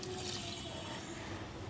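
Tamarind water poured into an anchovy curry base of shallots, green chillies and tomato, a steady low watery splash and trickle running continuously, fairly faint and close, with no talk over it.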